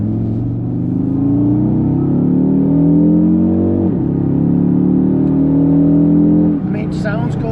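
Audi RSQ3 in RS mode accelerating, heard from inside as a loud, steady engine drone rising in pitch, with a brief dip around a gear change midway and another near the end.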